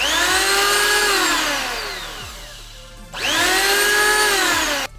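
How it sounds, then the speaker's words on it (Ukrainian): A Ronix 9211 electric hand planer spins up with a loud, whining motor. The pitch rises to full speed, then winds down and restarts twice, with no speech. "давайте включимо, послухаємо, як він працює"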